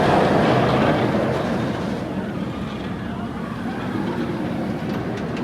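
Raging Bull roller coaster at SF Great America roaring past on its course, a loud continuous rumble and rush that fades slightly as the train moves away, with no talking over it.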